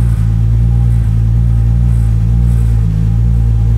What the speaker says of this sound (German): Jetzt ist der Motor fast lauter als der Auspuff